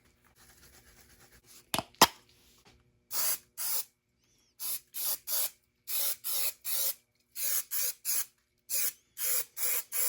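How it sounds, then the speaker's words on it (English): Adhesive coating sprayed from an aerosol can onto A/C vent gaskets for a 1973-79 Ford F-series truck, a dozen short hissing bursts in steady rhythm, close and fairly loud, after a couple of sharp clicks. "I'm going to give a good coating on both, or not on both sides, but on each side of these gaskets."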